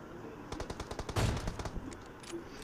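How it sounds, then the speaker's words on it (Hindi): Rapid gunshots in the PUBG Mobile battle royale game, a quick series of sharp cracks building to a heavier burst, fairly faint and with no talk. "ये वाला लास्ट वाला शॉट जो लगता है क्या ही मज़ा आ जाता है।"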